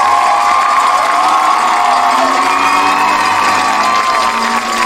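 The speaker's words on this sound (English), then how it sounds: "Please give a round of applause for this year's homecoming royalty." Football stadium crowd cheering, whooping and clapping for homecoming royalty at a college game, a loud continuous roar of many voices with shrill shouts rising over it.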